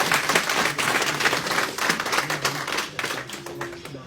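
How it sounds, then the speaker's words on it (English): Applause from an audience at a Biafran town hall meeting in Japan, a steady dense clapping that fills the whole stretch, with some cheering or voices mixed in and easing slightly toward the end. "And a round of applause for him."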